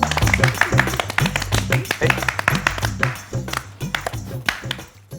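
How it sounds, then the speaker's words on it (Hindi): A group claps in quick, steady rhythm over a thumping music bed, the claps bright and close before the noise thins out near the end. "अरे ताली बजाओ।"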